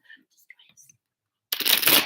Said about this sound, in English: Did I shuffle 3 times?